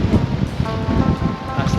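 Strong gusts buffet the microphone on an island beach, a continuous rough roar with faint surf underneath, steady and close throughout.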